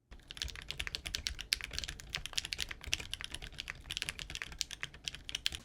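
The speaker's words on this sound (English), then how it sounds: "The typing feel without any foams is," Someone types quickly and continuously on a Zoom 65 V3 mechanical keyboard assembled without foams, 1.6mm PCB, producing sharp close clacks in dense bursts with harsh resonance and no speech over it.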